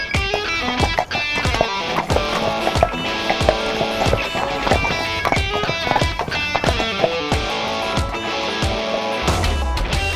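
Police horses of a mounted brigade walking, their hooves clip-clopping in a steady, close, loud rhythm of repeated sharp strikes that runs throughout.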